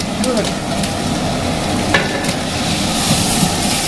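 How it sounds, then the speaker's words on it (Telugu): Chicken pieces being stirred into biryani masala in a pan, a steady scraping stir over continuous low sizzling, close and fairly loud with no talk. "మసాలాలు కిందివి పైకి బాగా నీట్గా మిక్స్ అయ్యేటట్టు కలుపుకోండి"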